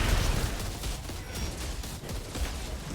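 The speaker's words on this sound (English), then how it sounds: "Again, we're using the submachine gun." Rapid submachine gun fire in the video game Outriders, a dense continuous rattle of shots layered over busy combat noise, steady and fairly loud throughout.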